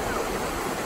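Meltwater from ice runs in a steady, continuous rush of flowing water, close and fairly loud, with no voices over it during the short moment.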